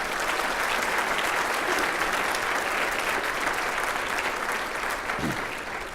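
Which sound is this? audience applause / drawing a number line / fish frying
audience applause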